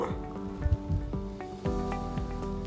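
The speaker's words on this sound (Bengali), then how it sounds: "এবার আমি ঝোলের জলটা দিয়ে দিচ্ছি। এখানে উষ্ণ গরম জল ইউজ করছি।" Warm water is poured into chicken frying in a pan, and a close sizzling hiss follows with bubbling and scattered pops, mixed with clatter from the cookware.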